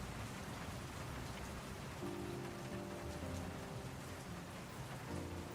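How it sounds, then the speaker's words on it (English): Steady rain beats against an office window in the video game World of Goo 2, a continuous wash of drops with faint low musical tones underneath. "The rain beats against the office window."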